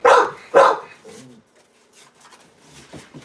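A dog gives two loud, close barks in quick succession, followed by a softer low whine or grumble and some faint shuffling, with a quiet voice briefly under it.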